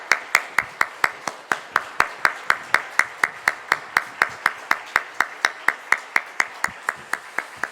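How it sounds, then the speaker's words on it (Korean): A church congregation at a family dawn prayer service claps in a steady, even rhythm, each sharp clap ringing clearly in the hall at a brisk pace, with no talk over it. "우리 크게 박수하겠습니다."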